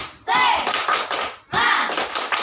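A group of schoolchildren perform a spirit clap routine, two sharp bursts of rhythmic hand claps and taps separated by a brief pause, loud and close.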